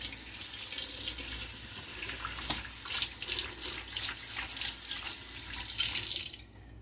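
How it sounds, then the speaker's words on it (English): A kitchen tap runs steadily while hands rub and splash beneath the stream, with the water pattering irregularly, then the flow cuts off at the end. "I'm going to wash my hands"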